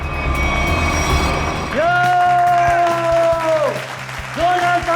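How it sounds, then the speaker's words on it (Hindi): An audience applauds at a television crime-drama episode, with a burst of clapping that is soon overlaid by sustained tonal sounds and voices. "जोरदार तालियां दोस्तों"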